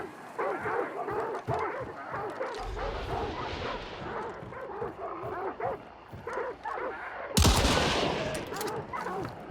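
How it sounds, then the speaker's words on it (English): Shotgun blasts in the video game Hunt: Showdown 1896, heavy booming shots among rough, barking-like noise, with a loud sharp report near the end and someone talking throughout. "Shotgun kind of fucks."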